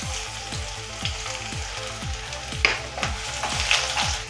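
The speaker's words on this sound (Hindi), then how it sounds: "तेल अभी गर्म हो गया है, इसमें हम चौथाई चम्मच जीरा ऐड करेंगे और अब इसमें हम बारीक कटा हुआ लहसुन ऐड करेंगे।" Chopped garlic and cumin seeds sizzle steadily in hot oil in a kadai while cooking green pea kachori filling, a close, continuous frying hiss broken by regular stirring scrapes and a couple of sharp pops.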